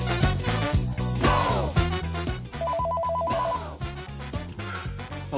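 A telephone rings after being dialled, repeating its bright electronic trill against music in a comedy film.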